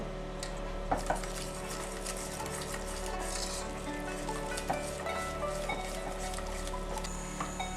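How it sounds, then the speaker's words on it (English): A whisk stirs milk into a sauce in a pan over very low heat, giving a steady scraping, clinking churn with light sizzle and a few sharper metal taps on the pan throughout. "I'm going to get my whisk and whisk continuously, adding bits at a time."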